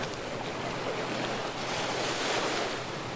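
Ocean waves rolling onto the beach at Playa El Ultimo Trolley in Ocean Park, a continuous broad roar of surf with wind noise, steady and fairly loud, with no voices.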